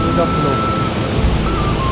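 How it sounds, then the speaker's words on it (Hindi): Fast-flowing mountain river water near Kedarnath rushes in a steady broadband roar, close and constant throughout. "पानी का फ्लो इतनी ज़्यादा तेज एकदम लग रहा है।"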